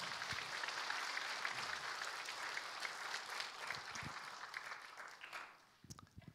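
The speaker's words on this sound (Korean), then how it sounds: "하나님께 영광의 박수를 돌리겠습니다." A congregation in a Korean church applauding in praise as the pastor comes forward, a dense, even wash of many hands clapping that tapers off near the end into scattered claps.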